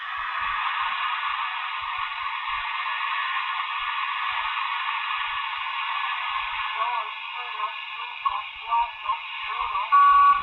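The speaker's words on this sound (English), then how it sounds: "We can see here the digital transmission," Digital shortwave transmission on 11635 kHz received on an SDR: a steady, dense buzzing data hiss fills the whole clip at moderate loudness, and short tonal warbles and blips break in near the end.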